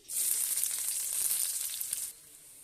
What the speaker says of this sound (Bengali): কাঁচা লঙ্কা রসুন আর লঙ্কাটা ভাজা হয়ে গেছে